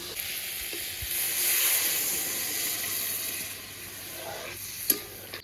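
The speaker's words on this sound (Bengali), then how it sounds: "লাউটা এখন পরিমাণ মতন জল দিয়ে দেবো" Water poured into a pan of fried bottle gourd sets off a steady broadband sizzle and hiss of steam, with faint stirring and a brief sharp clink near the end, with no voices.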